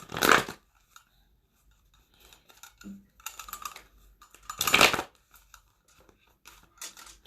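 Bursts of card shuffling, a couple of loud riffling flurries separated by quieter shuffling and handling noises, close by.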